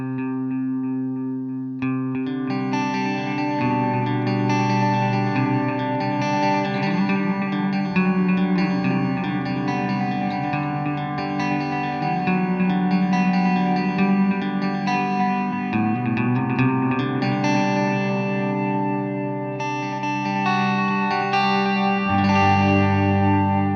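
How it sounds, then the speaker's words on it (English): Electric guitar played through a Strymon Timeline digital delay pedal set to its analog delay mode, giving warm, smeared repeats that trail each note. Playing is loud and continuous for about 24 seconds with no talking. "As you can see, the analog setting sounds pretty warm. Even though it's a digital pedal, it does a fine job of emulating the analog sound."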